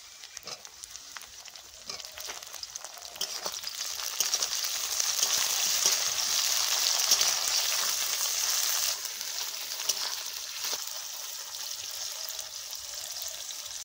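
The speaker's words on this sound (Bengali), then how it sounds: "পেঁয়াজ আর কাঁচা লঙ্কা হালকা ভেজে নিলাম। এখন এর মধ্যে টমেটো দিয়ে দিচ্ছি।" Tomatoes going into a pan of lightly fried onion and green chili, a continuous hissing sizzle that swells and then eases slightly, heard alone without talk.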